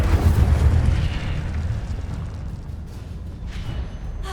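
Fiery Incendio spell blast in the Hogwarts Legacy video game, a loud low roaring burst up front that fades into a sustained rumbling crackle.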